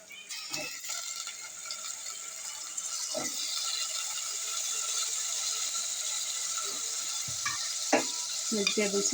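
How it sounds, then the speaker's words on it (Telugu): Vegetables and tomato stirred and frying in a pan for sambar, a steady close sizzle running throughout with scraping spoon strokes and occasional clanks against the pan. "అన్నీ వేసుకొని ఒక్కసారి కలుపుకొని ఇదే స్టేజ్లో ఉప్పు వేసుకోవాలి."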